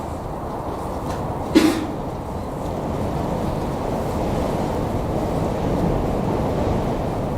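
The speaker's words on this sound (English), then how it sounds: "It's that windy out there." Strong wind buffets the microphone in a constant heavy roar, with one short thump or gust near the start.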